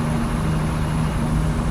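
A Kenworth W900A truck engine in American Truck Simulator drones steadily and evenly at close range, a continuous low rumble with no breaks.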